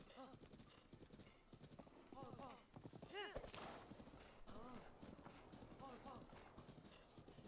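Horse hooves clip-clop steadily in a Zelda video game while several people talk over the top throughout.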